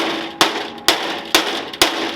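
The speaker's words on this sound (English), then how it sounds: "I am using a mallet to hammer" Four sharp metallic strikes from a mallet hammering fuel tank holder parts on a 2005–2010 Jeep Grand Cherokee, evenly spaced about half a second apart, close and loud, each ringing briefly before the next.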